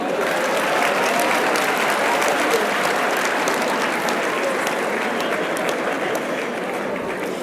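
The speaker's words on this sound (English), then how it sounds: "Please clap for me now." Sustained applause from a conference audience at a leadership event, a dense, loud wash of many hands clapping evenly throughout without a break.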